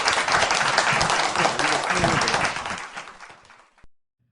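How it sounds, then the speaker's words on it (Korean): A lecture audience claps in a dense, loud burst of applause that tapers off over about four seconds, leaving a few last claps before silence. "우리 그러면 김종대 편집장님께 큰 박수 주시면서 오늘 김종대 편집장님 강연 말씀 들어가겠습니다."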